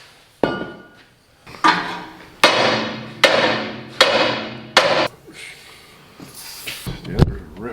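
A bigger metal bar strikes frozen, seized spinners on farm machinery in a run of about seven sharp metallic clanks with ringing decay, irregularly spaced and fairly close, ending in a cluster of lighter knocks.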